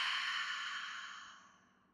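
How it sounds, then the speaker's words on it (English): A single yoga breath is exhaled softly through an open mouth, a breathy hiss that slowly fades over about two seconds, close and quiet. "we're gonna exhale like we're trying to fog up a windshield"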